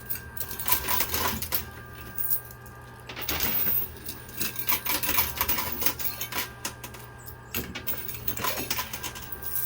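Coins rattle and clink continuously in a high-limit casino coin pusher machine, with dense overlapping metallic drops and jingles, fairly loud and close, with no talking.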